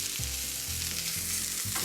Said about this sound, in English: Our steak is cooking along nicely.